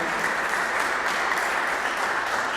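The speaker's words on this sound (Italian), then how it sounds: "volevo dedicare un applauso a lui" Sustained applause from an audience in an auditorium at a winter chamber concert of piano, violin and viola, a dense, even clatter of many hands holding steady throughout with no voices over it.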